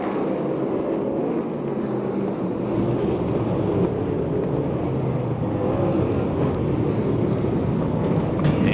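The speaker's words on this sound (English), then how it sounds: "Car slowing on the back straightaway." A USAC/CRA sprint car slowing on the back straightaway during a race at the Perris oval, heard as a steady, broad engine roar at a distance with continuous wind and crowd-like wash.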